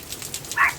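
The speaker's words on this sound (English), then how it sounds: "She keeps barking." A small dog gives a single short, faint yip or bark at a distance while rain hisses softly in the background of a garden during a heavy California rainstorm.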